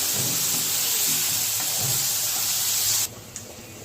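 Garlic paste sizzles loudly in hot oil in a pan for prawn biryani, a steady close hiss that cuts off sharply near the end, leaving a quiet background with a small knock.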